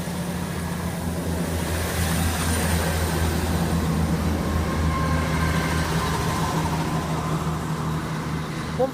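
A train passes through Longport station on the West Coast Main Line, a steady, loud rumble and rail roar that holds for several seconds with no break.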